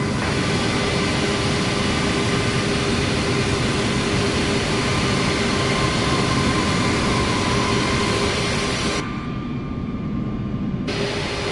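A Delta jet airliner taking off from a runway at Washington National in Microsoft Flight Simulator 2024: a steady, loud, broadband engine roar that holds constant throughout, with its hiss briefly thinning out near the end.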